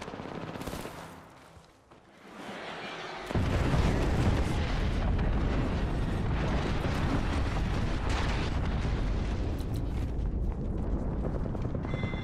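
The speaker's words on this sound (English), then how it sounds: "Calling the airstrike." An airstrike in the Apex Legends video game pounds the area with a dense, loud barrage of rapid explosions and gunfire-like blasts, starting abruptly after a brief quieter lead-in and continuing relentlessly for about nine seconds.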